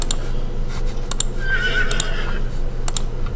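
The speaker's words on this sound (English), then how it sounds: "The horse sounds with his, like, facial expressions." A horse neighs in the Warcraft 3 video game, a bright whinny over game music with scattered clicks and ticks.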